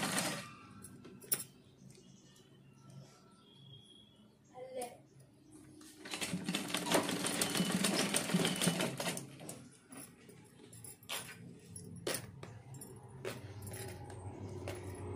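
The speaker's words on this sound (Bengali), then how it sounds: "এইভাবে বিচ্ছে বিচ্ছে সেলাই দিয়ে নেব, বিচ্ছে বিচ্ছে সেলাইটা দিয়ে নেব।" A sewing machine stitching a blouse gives a burst of fast, dense mechanical whirring in the middle, with scattered clicks and handling taps before and after, recorded fairly quietly.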